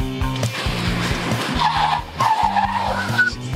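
A car skids to a stop with the handbrake pulled, tires screeching loudly over a throbbing engine and rumbling film music for several seconds.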